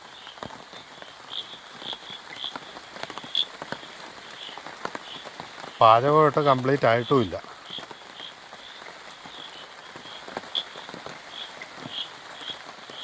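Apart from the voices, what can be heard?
heavy night rain in the forest at a campsite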